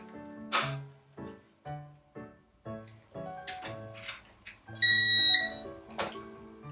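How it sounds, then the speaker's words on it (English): A series of short electronic beeps from a remote-control car pairing, evenly spaced and close, followed by a longer, louder tone and a final chirp. "When you hear that beeping sound, it means it's paired."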